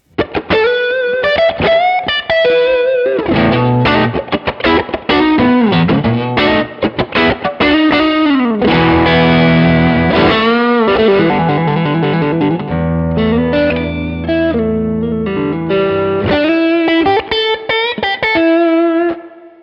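Distorted electric guitar through a Neural DSP Archetype: John Mayer amp simulator with boosted room mic send, playing riffs and sustained chords, loud and close with a roomy tone, no voices.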